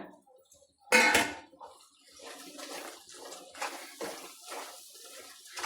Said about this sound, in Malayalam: നമുക്ക് പൂന്തി അതിനകത്തോട്ട് ഇടാം ഇട്ട് നല്ലവണ്ണം ഇളക്കിയെടുക്കുക